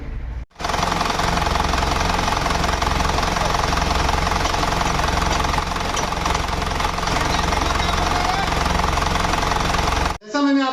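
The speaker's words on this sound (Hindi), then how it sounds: "अब हम इंजन को स्टार्ट करा के आपको चेक करा देंगे" An engine fires up after a tappet setting adjustment and runs loudly and steadily with a rhythmic mechanical knocking, close by, until it stops abruptly near the end, when a voice briefly speaks.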